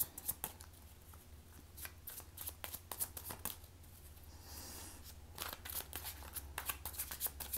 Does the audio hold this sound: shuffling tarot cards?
yes